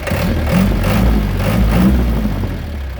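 A loud, close motorcycle engine growls and revs in low rumbling surges, rising and falling a few times with no voices.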